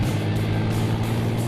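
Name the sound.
engine revving up on a scrapheap-built racer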